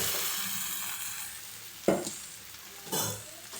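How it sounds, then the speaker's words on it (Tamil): Vegetable noodles tossed and stir-fried in a hot pan with chilli and tomato sauce, a steady close sizzle broken by two louder bursts of stirring and scraping, with no talk. "இப்போ நம்ம நூடுல்ஸை சேர்த்துக்கலாம்."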